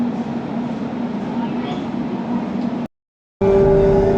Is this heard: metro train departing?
yes